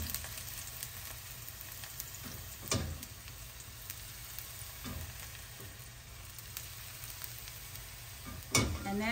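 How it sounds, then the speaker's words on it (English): Green onions sizzle in hot oil in a pan while cooking for steamed rice roll sauce, a steady close frying hiss with a few louder crackling bursts and stirring scrapes, no talk. "put the oil in there, add the green onions. We want the green onions to be fragrant"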